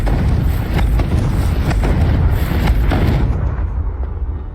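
Explosive Confringo spell blast in a Hogwarts video game, a loud, sustained booming rumble with repeated crackling bursts that cuts off and fades near the end.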